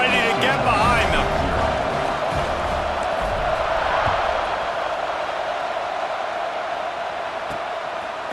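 Stadium crowd roaring steadily in an EA Sports College Football SEC matchup as the teams line up for a kickoff, a broad, loud wash of cheering that eases slightly over the span, with a commentator talking over it.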